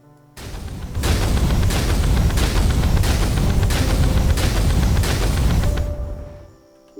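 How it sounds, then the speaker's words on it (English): Helium Flash weapon from Terraria Calamity unleashing a colossal fusion blast: a loud, sustained roaring barrage of rapid rhythmic booms lasting several seconds before cutting off. "Helium Flash launches a volatile star core which erupts into a colossal fusion blast."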